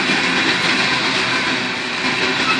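CSX grain train boxcars rolling past on the rails, a loud, close, continuous rumble and rattle of wheels and cars with no talking.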